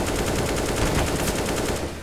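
Video game gunfire rattles out as rapid automatic bursts, loud and continuous, with dense repeated shots filling the whole moment and no talk over it.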